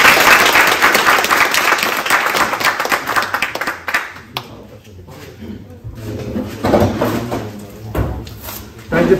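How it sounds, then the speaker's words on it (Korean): During a beef deboning lecture at a cooking high school, students give a burst of dense applause that lasts a few seconds and then fades, followed by scattered talk and handling noises. "자, 박수 한번 주세요."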